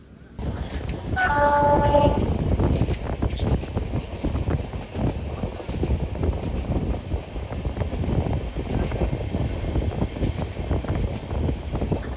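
The Palaruvi Express running with new LHB coaches, heard as a continuous rumbling rush with wind buffeting and rattles throughout, and a brief tonal horn-like note near the start.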